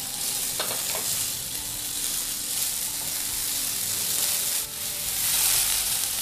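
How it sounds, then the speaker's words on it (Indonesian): Garlic and ginger fry in a pan with a steady, close sizzle and hiss, broken by occasional stirring scrapes throughout. "lalu goreng bawang putih dan jahe"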